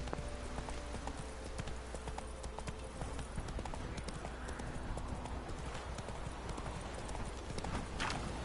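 Roach, a horse in The Witcher video game, gallops with steady, continuous clip-clop hoofbeats, close and loud against a busy game soundscape with music and ambience.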